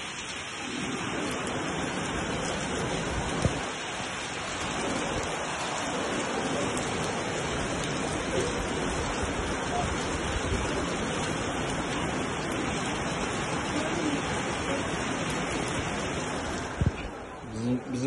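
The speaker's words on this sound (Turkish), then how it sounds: "Ne çok yağıyor yağmur" Heavy rain pours down steadily, a dense continuous roar of drops hitting surfaces with no pauses.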